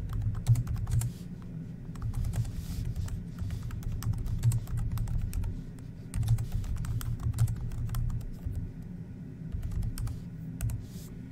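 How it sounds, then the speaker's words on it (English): Steady typing on a computer keyboard while writing the body of an email, a dense continuous patter of close key clicks with brief pauses, no voices. "The third step is to type in the body of the email and add any attachments."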